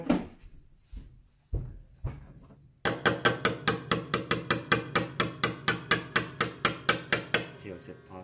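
Small mallet tapping a loose piano tuning pin, a few separate knocks followed by a fast, even run of sharp close taps that slows near the end.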